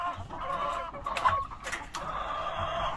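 Sick chickens cluck nearby in short, repeated bursts, several birds overlapping with soft murmuring calls.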